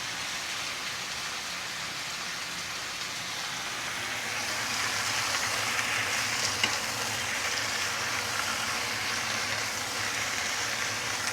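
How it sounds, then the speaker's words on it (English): Marinated chicken sizzles and fries in a hot pan with ginger for a chicken stew with shiitake mushrooms, giving a steady, close, crackling hiss that swells slightly partway through, with no talking. "I like to listen to all this sizzling sound at home."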